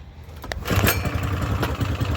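An old car that looks fire-damaged, sitting near a flatbed, cranks and catches. A rough, mid-pitched engine sputters into an uneven idle close by, with no talking.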